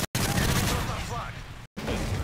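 Gunfire in a competitive shooter video game, dense rapid bursts of shots filling the short stretch with two brief cuts of silence, loud and close.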